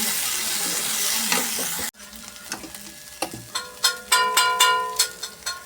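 Oil sizzles in a pan while spinach potato gravy is cooked with roasted coconut, a steady loud hiss that drops abruptly, then lighter frying with clinking stirring strokes.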